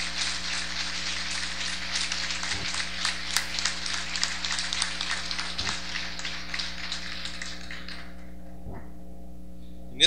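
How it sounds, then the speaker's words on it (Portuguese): Warm applause from the audience at the 2016 swearing-in ceremony of the new OAB Londrina lawyers' board, dense clapping over a low hum that thins out and fades near the end. "com uma calorosa salva de palmas, saudemos a todos os integrantes da gestão"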